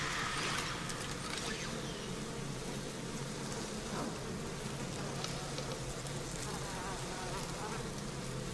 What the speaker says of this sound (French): Et on retrouve nos BFF, les guêpes. Bon là en gros on est dans le nid.